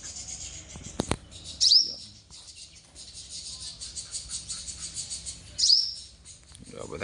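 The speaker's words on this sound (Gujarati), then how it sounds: "બધા બેઠા છે પક્ષીઓ." Birds gathered at a roadside feeding spot give two sharp chirps a few seconds apart over quiet ambient noise, with a couple of brief knocks early on.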